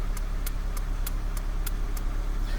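Relay inside a plug-and-play remote start module on a 2003-2006 Honda CR-V clicking back seven sharp, evenly spaced ticks about every third of a second, heard over a steady low engine-like hum with no talking.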